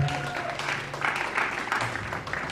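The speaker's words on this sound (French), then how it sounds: "On va applaudir pour lui, s'il vous plaît" Applause at a casting session for a TV series, a short burst of clapping from a small group, moderately loud, with a voice faintly underneath.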